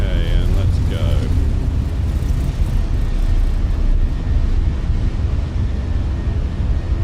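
An Airbus A321 in a flight simulator rolls for takeoff with a loud, steady engine roar and rumble. A voice speaks briefly over it near the start.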